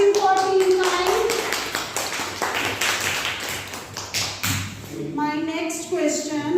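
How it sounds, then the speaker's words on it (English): Students in a school classroom at Darshan Academy Dasuya clap together for a team, a run of quick, close hand claps and taps with voices talking over and after them. "Clapping for Team Kind."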